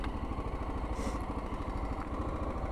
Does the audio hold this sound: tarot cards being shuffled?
no